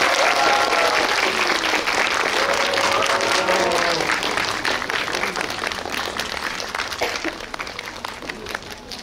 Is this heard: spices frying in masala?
no